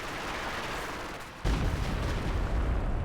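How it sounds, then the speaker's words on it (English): Sturmpanzer artillery firing in Company of Heroes 2, a strategy war game: a single heavy, deep boom lands about halfway through, stands out from a steady battlefield rumble and carries on as a loud low roar with no voices. "Sturmpanzer ready to fire again."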